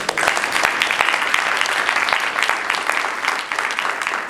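A graduation ceremony audience claps steadily for several seconds, a dense, fairly loud patter of many hands filling the room with no voices over it.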